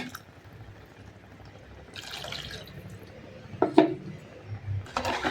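Rinse water from a mixer jar is poured into simmering brinjal kuzhambu, an eggplant curry, giving a few short splashing bursts over a quiet kitchen background.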